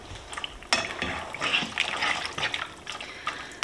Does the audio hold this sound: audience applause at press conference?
no